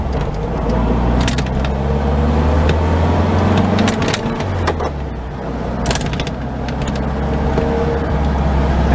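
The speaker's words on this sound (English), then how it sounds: "That rattling here is the convertible top." A loose convertible top with a missing seal rattles on a VW Beetle on the road, light tapping and clattering over a loud, steady engine and road drone inside the car.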